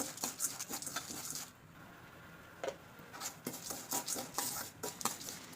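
A spoon scrapes and stirs urad dal and chana dal roasting in oil in a pan for curry leaf powder, close clinking and scraping strokes in an uneven rhythm, with a quieter gap midway and no talking.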